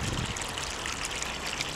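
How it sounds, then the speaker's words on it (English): Water from a hose-lock pipe on a UV pond filter, fed by a Bermuda 4500 pump, pours steadily back into a small garden pond, a close, continuous splashing trickle. "the water comes out of the hose lock and returns to the pond"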